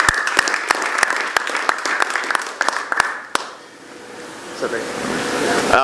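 Audience applause at a boxing press conference, loud and sustained with sharp claps for about three seconds, then fading into room noise as a voice begins speaking.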